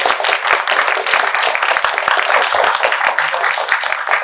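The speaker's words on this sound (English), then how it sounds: "I would give her a round of applause." Audience applause at a college literary magazine release party and reading, brisk, close clapping from a modest crowd with individual claps standing out, steady for the full length.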